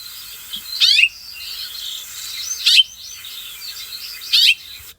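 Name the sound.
house finch call note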